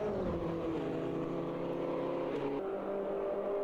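Race cars in Automobilista 2 drag race side by side. Engines drone steadily with tonal whines rising and shifting, close and continuous, without talk.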